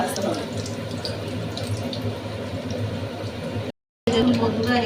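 Cauliflower pakoras fry in hot oil, producing a continuous bubbling, watery hiss close by, briefly cut to silence near the end before resuming, with a voice speaking over the sizzle.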